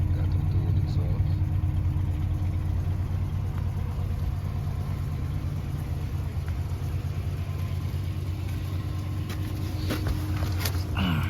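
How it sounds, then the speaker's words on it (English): A 1994-96 Chevrolet Impala SS with dual exhaust idles nearby, a steady low rumble holding evenly throughout with faint background noise and no talk. "Look at my Impala over there. Sounds good. Got them dual exhaust."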